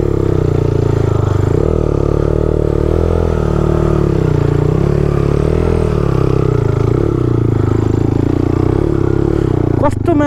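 An enduro motocross motorcycle rides through mud at a Pokhara race day, its engine droning loud and steady throughout, with a brief sharp clatter near the end.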